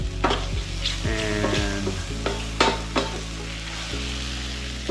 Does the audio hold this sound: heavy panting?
no